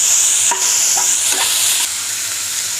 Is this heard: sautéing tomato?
yes